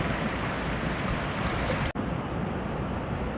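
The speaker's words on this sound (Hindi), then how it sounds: "काफ़ी तेज़ बहाव है आज पानी का।" Fast-flowing water of the Panjkora river rushes as a steady broadband roar, close and continuous, with a brief dropout near the middle.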